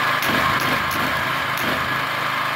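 Gasoline genset running steadily at a constant, loud, high-pitched drone while powering a MIG 160 welder, with no breaks in the engine note.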